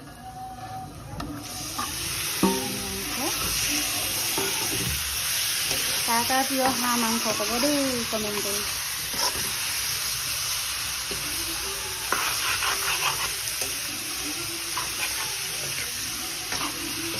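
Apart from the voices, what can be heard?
duck meat frying and sizzling with spices in pan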